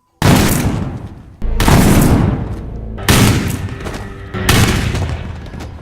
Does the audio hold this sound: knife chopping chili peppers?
no